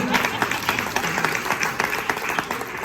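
Audience clapping in a brief, lively burst of many hands at close range, with some voices mixed in.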